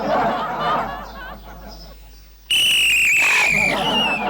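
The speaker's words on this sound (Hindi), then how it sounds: "सीटी क्यों बजा रहा है?" A loud, shrill whistle is blown suddenly and sustained for nearly two seconds with a wavering pitch, cutting in after voices and chuckling in a residential society setting.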